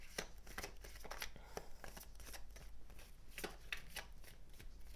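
Tarot cards being shuffled by hand, a quick run of crisp riffling and slapping bursts, close and fairly quiet, with no talking.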